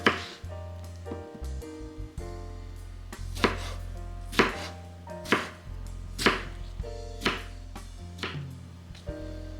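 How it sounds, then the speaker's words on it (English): Tomatoes with stems removed being sliced with a knife on a board, a series of crisp evenly spaced chops about one per second, close and clear over a faint background hum. "Remove the stems from the tomatoes and slice it."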